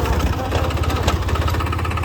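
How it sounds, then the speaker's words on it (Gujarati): A 4x4 tractor engine running near a plowed field, a steady close rumbling idle with a regular knocking pulse and no talk over it. "અને આ ટ્રેક્ટર આવી"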